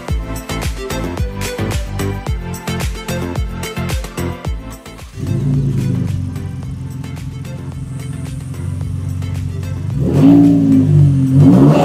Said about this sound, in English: I am just literally getting out onto the road with the Raptor now. My first time driving it.